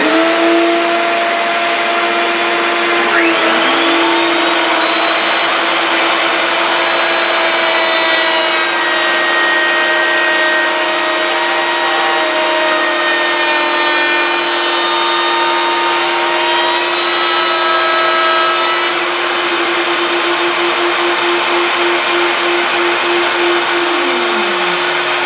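A power tool bit cutting wood for a shelf, a loud, steady high-pitched whine running for about twenty-five seconds with slight pitch shifts as it bites into the wood, then winding down at the end.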